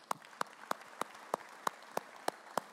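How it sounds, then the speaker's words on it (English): A small audience at a panel discussion applauding, heard as a thin, quiet round of about ten evenly spaced, distinct claps over a soft background. "Kate needs a round of applause too."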